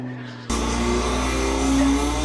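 In Mexico, a Volkswagen Beetle races a McLaren. The clip opens with a low engine rumble, then a loud engine roar cuts in abruptly and holds steady, with no voices.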